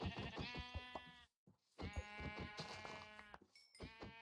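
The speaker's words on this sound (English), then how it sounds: "sheep." Sheep bleats in a video game, several short wavering bleats in quick succession, clear and close, with a brief silent gap partway through.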